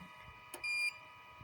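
A single short electronic beep from a power inverter's buzzer rings out over a quiet steady hum, preceded by a faint click.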